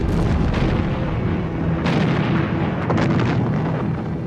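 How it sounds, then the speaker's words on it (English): German artillery bombardment at Verdun in February 1916, heard as a dense, continuous rumble of heavy guns with repeated booms and bursts layered over each other, loud and sustained throughout with no voices. "On the 21st of February 1916, the German bombardment began."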